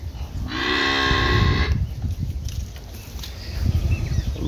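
A loud, sustained moo from cattle penned in a farm corral rings out for over a second, with shuffling hooves, low rumbles and outdoor noise continuing around it.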